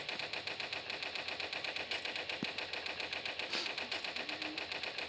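Quiet, rapid, rhythmic automatic gunfire in the Toilet Monster Hide N Seek video game, repeating steadily throughout as a clattering stream.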